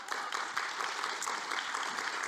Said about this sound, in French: je vais vous demander, bien sûr, d'applaudir chaleureusement